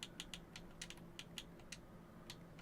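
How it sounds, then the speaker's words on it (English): Keystrokes on a computer keyboard entering a custom system name, a scattered run of light, crisp clicks with short pauses, close by and alone over a faint background hiss. "under Custom System Name, we are going to type out"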